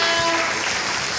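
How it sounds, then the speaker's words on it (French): A crowd at a celebration for a new director claps, a brief dense wash of applause heard close and loud with a voice briefly over it. "Je vais vous demander d'applaudir très fort pour le Dieu le Tout-Puissant."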